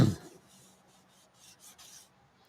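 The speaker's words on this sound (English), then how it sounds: "And getting a rag in and wiping this, just wiping the excess off." A rag rubs excess oil off a machine's sliding ways: soft, faint scrubbing strokes, a few short rasping passes in a quiet workshop.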